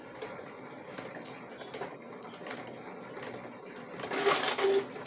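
A sewing machine back stitches through fabric in a steady mechanical run of needle clicks and motor whir, growing louder and busier near the end, with no voices.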